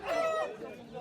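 A brief rooster crow at a poultry market, loud and near but clipped short, with the chatter of market voices in the background.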